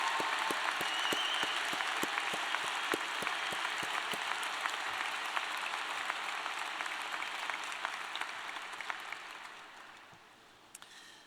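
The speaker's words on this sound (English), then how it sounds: "Let's give them a round of applause." An audience at a university graduation ceremony, held indoors, claps steadily throughout, a dense wash of applause that slowly thins and fades near the end.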